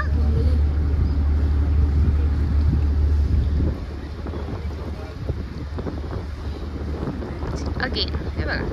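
A small personal commuter boat cruises the Kerala backwaters, its engine a steady low drone under heavy wind buffeting the microphone, easing slightly partway through.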